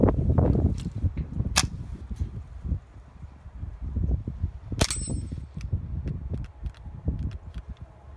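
A Marlin 795 .22 rifle fires CCI Quiet rounds, giving soft, muffled pops and a couple of sharp metallic clicks and clanks amid faint outdoor background noise, with no talk.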